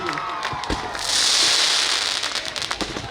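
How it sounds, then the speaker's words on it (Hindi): A crowd at a Hanuman Janmotsav gathering in Bilaspur claps loudly for an honoured guest: a dense burst of applause swells, holds for about a second and then thins into scattered claps. "एक बार जोरदार ताली गौतम छत्रपाल सर के लिए"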